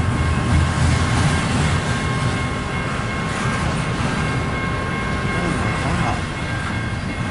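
A long freight train rumbles past close by, a steady heavy roar with rhythmic clacking of wheels, continuous throughout.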